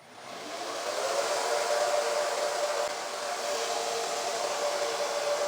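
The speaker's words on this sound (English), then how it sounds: "when you get a really good quality hair blow dryer, it cuts the drying in half" A hair blow dryer runs steadily, a loud, even whooshing hum with a faint tonal whine that ramps up at the start and then holds constant throughout, with no talking.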